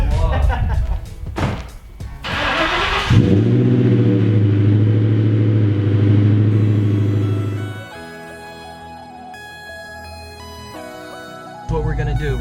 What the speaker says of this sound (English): I'm just trying to get a cold start for the vlog.